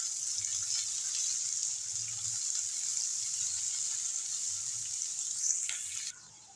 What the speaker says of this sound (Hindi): हमारा ऑयल गरम हो चुका है। अब हम इसमें डालेंगे एक लार्ज साइज का प्याज और इसको करेंगे ब्राउन।